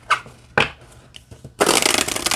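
A deck of bird-themed oracle cards is handled with a few sharp flexing clicks, then riffled in a dense, close, rapid flutter lasting under a second.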